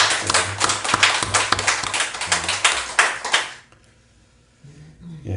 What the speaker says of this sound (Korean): 다시 한번 힘찬 박수 부탁합니다.